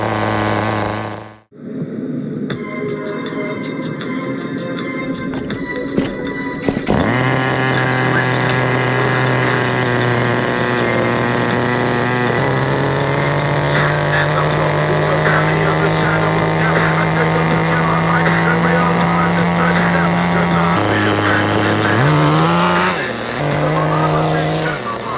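A Thunder Tiger TS-4n nitro RC touring car engine runs cold on the road, a close, steady high-pitched buzz that drops briefly and then holds a constant drone before tailing off near the end.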